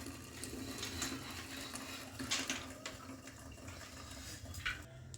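Water drains through cooked rice held in a colander during veg dum biryani preparation, a steady close splashing rush that runs continuously with no talking.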